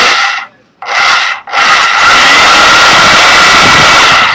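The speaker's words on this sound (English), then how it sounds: "take the drill again and bore it out" A drill grinds steadily through plastic on a Nerf blaster, cutting in after two short stops and then running continuously as a loud, rough whir.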